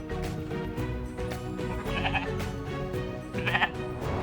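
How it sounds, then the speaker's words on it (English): Sheep bleating, two short wavering calls in the middle and near the end, heard over steady background music at moderate loudness. "I am a sheep"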